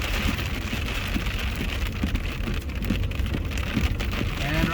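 Soft hail falls steadily during a hailstorm near damaged houses, the pellets breaking up as they strike. The result is a dense, even patter like heavy rain on surfaces, constant and close, with no voices.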